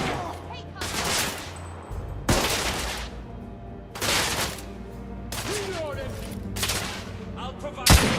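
Bursts of gunfire in The Order: 1886, loud close volleys repeating every second or two across the stretch, with sharp shots layered over a low rumbling game backdrop.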